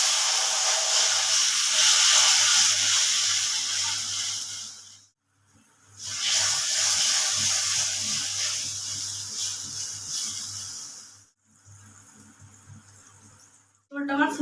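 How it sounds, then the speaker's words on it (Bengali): Turmeric water in a cooking pot bubbles and hisses loudly at close range, a rushing steam-like noise that cuts out twice before resuming more quietly. "জলটা আমার ফুটে গেছে"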